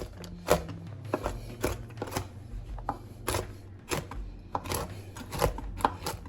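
Rapid knife chopping of cashews, almonds, walnuts and pecans on a board, a steady run of close, crisp taps with uneven spacing and no speech.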